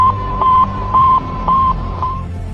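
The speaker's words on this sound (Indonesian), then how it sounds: "Sputnik memancarkan gelombang yang bunyinya seperti ini." Sputnik satellite radio signal: a series of four evenly spaced, steady electronic beeps at one pitch over a low hiss of static, clear and fairly loud.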